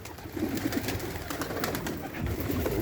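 Newly acquired pet pigeons coo and flutter nearby as they try to get inside, a continuous soft cooing with scattered wing and scuffling sounds.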